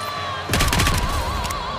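A short burst of rapid gunfire in the video game NIKKE: The Goddess of Victory, loud and close for about a second, over a steady game music background.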